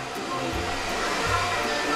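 A blower running indoors gives a constant, even whooshing roar throughout, close and fairly loud, with no breaks.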